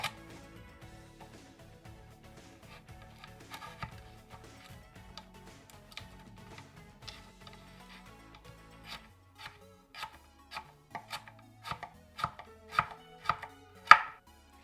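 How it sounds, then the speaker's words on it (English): A knife cuts a carrot into matchsticks on a board, quiet soft taps at first building into sharper, louder, evenly spaced chops toward the end, close and with no talk. "As I get toward the thicker end of the carrot, I'm going to give these a few slices vertically."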